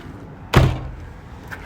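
A house door leading from the kitchen to the garden makes a single solid thunk as it swings open, close by, followed by quiet room tone and a faint knock.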